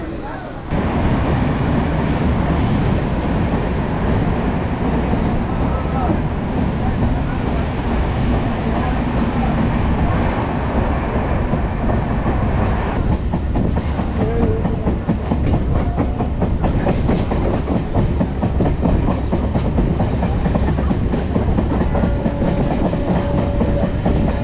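MEMU local train running on rails from Chennai Central toward Tiruttani, with a loud continuous rumble and rhythmic clickety-clack of wheels heard from onboard, steady throughout.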